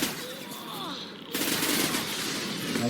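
A big weapon fires in Mass Effect 2, giving dense, continuous gunfire with a sharper, louder surge partway through. A player's voice runs faintly underneath.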